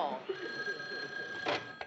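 A telephone rings in a domestic sitcom scene, a short trilling burst partway through, heard faintly behind people talking.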